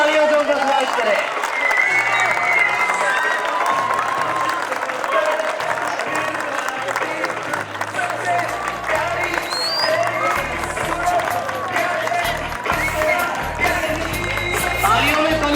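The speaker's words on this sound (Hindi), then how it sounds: "जोरदार तालियों से उनका स्वागत करें।" A crowd at a Diwali evening with soldiers at the border gives sustained loud applause, a continuous clapping roar with cheering lasting throughout, while a voice carries on over it.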